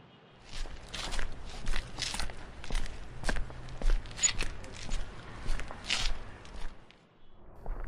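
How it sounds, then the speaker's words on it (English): Footsteps on wet asphalt in a back alley, a steady run of soft, damp slaps from one walker, fairly close and moderately loud, with no talking over them. "the wet asphalt making a soft splat noise as your feet hit it"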